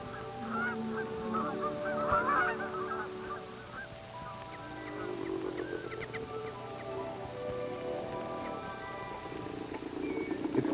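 A flock of geese in a mountain meadow honks repeatedly at moderate distance, the calls overlapping in irregular bursts over a low steady background hum.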